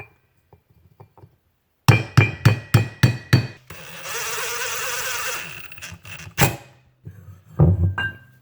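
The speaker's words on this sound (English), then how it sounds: "I'm going to take a hammer and a piece of wood," Hammer taps through a piece of wood seating a clutch button on a Polaris ATV driven clutch: a crisp run of six evenly spaced knocks, a hissing pause, then a few more scattered hits, close and sharp.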